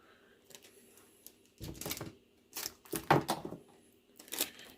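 Several short, crackling rips of tape being pulled from a roll, with sharp scissor snips in between, close up and irregular, while packing rocks into a USPS flat rate box.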